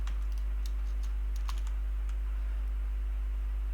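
Code being typed on a computer keyboard gives faint, scattered key clicks in uneven bursts over a steady low electrical hum, with no talking.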